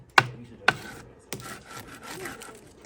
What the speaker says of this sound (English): this is what you have to do before you make cornbread is you got to grind the corn.